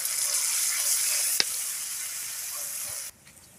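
Water pours into a hot pan of meat being braised for pancit guisado, a loud, steady hissing rush that fades slightly before cutting off abruptly near the end.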